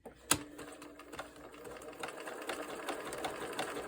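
A sewing machine runs a zigzag stitch while elastic is fixed into pajama bottoms, giving a quiet, close, rapid mechanical whirr and ticking that continues after a sharp click at the start.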